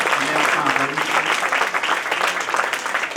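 An audience at a children's pathshala cultural programme claps for the teachers, giving steady, dense applause that runs evenly through the whole stretch at moderate loudness, with no voices standing out.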